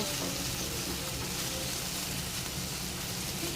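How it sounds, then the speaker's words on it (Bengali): Potatoes and onions fry together in a pan, a dense, even crackling sizzle that holds steady and loud close by throughout with no voices. "আর এখানে তো আলু পেঁয়াজ একসঙ্গে দিয়ে দিয়েছি দিয়ে ভালো করে ভেজে নেব"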